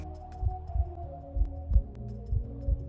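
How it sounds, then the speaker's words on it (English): A slow, steady heartbeat throbs low and muffled, about six soft double-pulses evenly spaced over a faint hum, with no voices. "The first sound you probably heard was your mother's heartbeat."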